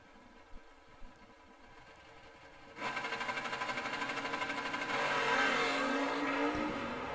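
A Chevrolet Camaro Z28 drag race car launches at a drag strip: after a low idle with a couple of light pops, a loud buzzing engine roar kicks in abruptly and builds stronger as it pulls away, heard alone.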